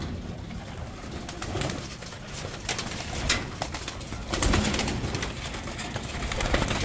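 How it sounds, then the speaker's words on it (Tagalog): Racing pigeons are let out of their loft in the early morning, with soft cooing and rustling wing flaps from a flock nearby, steady and busy throughout, with no talking. "I-release natin yung ating mga kalapate."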